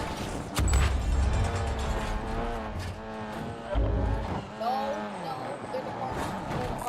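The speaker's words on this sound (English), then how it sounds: "It's an ATV Polaris Racer 4" An ATV, a Polaris Racer 4, in the Call of Duty video game: a revving engine and skidding tires with shifting pitch, heard under overlapping talk from players.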